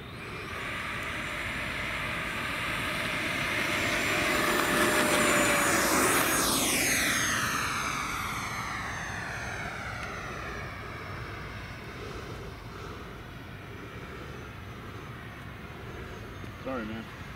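A Freewing F-86 RC jet makes its first flight, its ducted-fan whine building and sweeping loudly past in a close flyby, then fading into the distance over outdoor ambience.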